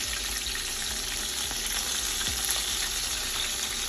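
Salmon fries in a hot pan, a dense, continuous sizzle and crackle of spattering oil, close and steady, with no talk.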